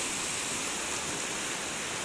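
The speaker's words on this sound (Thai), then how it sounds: "รอหลุนกันพี่น้องครับน้ำป่าไหลหลากนะครับอันตรายเรื่องช่วงนี้พี่น้องครับ" Flash floodwater rushes loudly and steadily after heavy rain in Sirindhorn district, Ubon Ratchathani, a dense unbroken roar of churning water with no voices.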